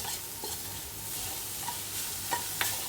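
Coconut rice with jaggery is stirred in a pan. It makes soft, faint scraping and a low sizzle, with occasional light clinks of the spoon against the pan.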